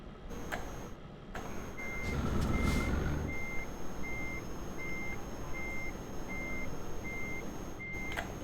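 A truck's reversing alarm beeps at an even, steady pace in the Euro Truck Simulator 2 driving game, about nine evenly spaced tones over a low engine rumble with brief air-brake hisses.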